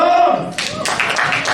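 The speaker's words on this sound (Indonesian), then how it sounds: "Tepuk tangan dong." A short burst of audience clapping breaks out in a digital marketing seminar hall right after a speaker's voice, lasting about a second.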